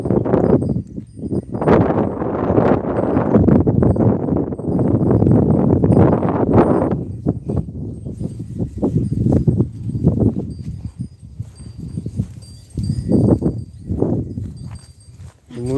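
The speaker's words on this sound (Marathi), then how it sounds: "ही बैलांची जोडी" Hooves clop along steadily on hard ground, a pair of bullocks walking close by, with rustling and handling noise throughout.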